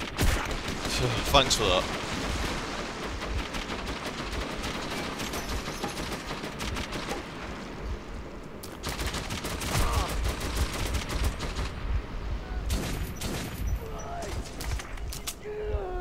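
Gunfire in the video game Metro 2033 arrives as dense bursts of shots and rapid fusillades throughout, with someone talking over the shooting.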